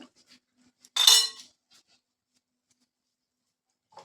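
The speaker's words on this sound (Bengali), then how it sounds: "চিনিটাও এর ভেতরে দিয়ে দেব আর এর সঙ্গে দিয়ে দেবো ইয়ে অল্প করে একটু লবণ" Sugar and salt go into vermicelli in a cooking pot, one brief close clink and rattle of a spoon against metal, followed by near silence.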